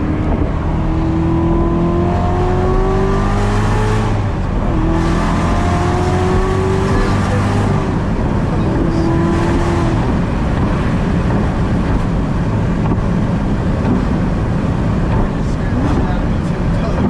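Exhaust and engine of a manual Corvette C7 Z06 driving at night, a loud, steady roar with rising rev sweeps through the gears in the first half, then a dense, continuous drone with talk mixed in.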